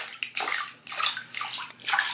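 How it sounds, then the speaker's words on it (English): Water splashes from a Pokémon video game animation come as several bursts of sloshing, spraying water in quick succession, fairly loud and unaccompanied by talk. "little splashes of water are weak as heck"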